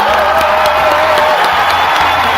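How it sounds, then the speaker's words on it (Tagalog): Studio audience clapping on a Filipino television talk show, a loud continuous spatter of applause with some cheering, layered over a looping musical bed with a steady pulsing beat. "Palakpak tayo."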